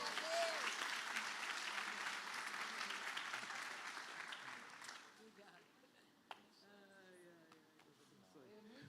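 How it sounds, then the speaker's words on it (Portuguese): A church congregation at a Portuguese-language worship service bursts into loud, sustained applause for about five seconds, then the clapping thins out and fades while voices and scattered sounds carry on beneath it. "Você pode aplaudir o Senhor?"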